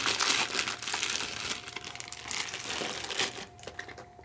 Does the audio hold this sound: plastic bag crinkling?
yes